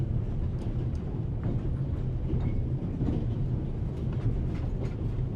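A train rolls steadily along in The Raven: Legacy of a Master Thief, a constant low rumble with faint clickety-clack running evenly throughout, no voices over it.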